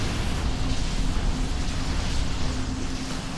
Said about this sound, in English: That was quite an explosion